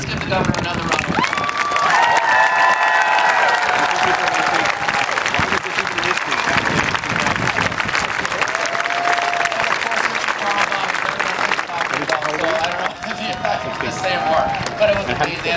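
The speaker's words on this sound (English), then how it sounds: "let's give the governor another round of applause." A large crowd applauding the governor of Minnesota, loud dense continuous clapping with cheers and crowd noise sustained throughout, a voice and faint tones rising over it in places.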